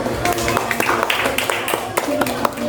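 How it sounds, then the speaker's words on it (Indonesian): A classroom of students claps for a classmate, a brief burst of scattered hand claps amid chatter and voices, fairly close and moderately loud. "Tepuk tangan untuk bagus ya"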